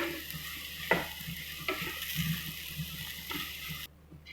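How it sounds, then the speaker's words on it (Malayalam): Gooseberries being stirred into a spice paste for pickle: a few close scraping, squelching stirring strokes in a pan with a faint background sizzle, and no voices. "നെല്ലിക്ക ചേർത്ത് കൊടുക്കാം. മിക്സ് ചെയ്യുക. പതിയെ മിക്സ് ചെയ്താൽ മതി"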